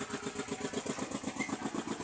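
Motorcycle on a road: a mid-pitched engine drone with a steady pulsing beat, fairly close and continuous, without voices.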